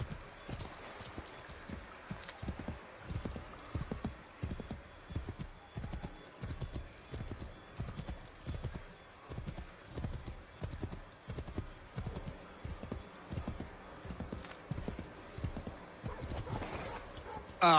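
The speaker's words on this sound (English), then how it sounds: "Get back on the horse." Horse hooves clip-clop in a steady galloping rhythm in the video game Assassin's Creed III, a continuous run of close, regular thuds with occasional faint voices behind.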